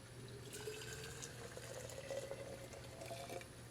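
A portable electric kettle pours hot water in a thin continuous trickle, faint and close, with a soft liquid gurgle lasting a few seconds.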